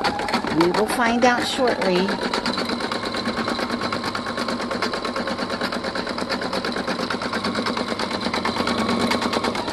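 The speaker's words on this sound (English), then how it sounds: "how pretty and how precise the stitching is on this machine" A Designer1 embroidery sewing machine stitches a floral motif with a steady, fast, even mechanical chatter that runs close and loud through the whole stretch, while a person speaks briefly over it near the start.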